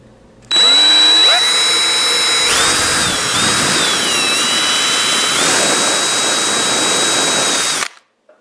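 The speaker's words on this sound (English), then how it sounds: "I just need to drill a hole so I can put a 6mm bolt in it." A power drill bores a hole in a plastic body part of a Ducati ST4 streetfighter, whining steadily at close range for about seven seconds with pitch shifts as it bites, and no talk over it.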